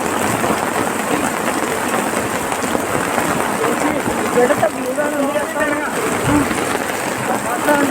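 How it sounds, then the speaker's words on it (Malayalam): Heavy rain pours steadily over water near houseboats, a dense continuous hiss throughout, with a faint low rumble of thunder mixed in and a voice speaking over it midway. "നല്ല മഴയുടെ സൗണ്ട് ഉണ്ട് ഇവിടെ."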